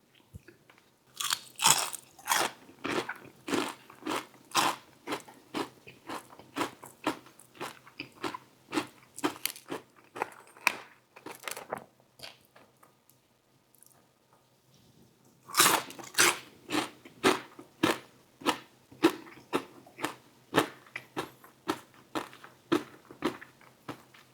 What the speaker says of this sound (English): I really like hearing that crunching sound when I'm watching other people eat